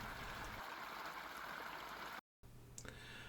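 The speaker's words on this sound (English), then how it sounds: "you can hear the sound of running water." Water running steadily from a well in a continuous gentle rush, close by, with a brief drop in sound before it resumes.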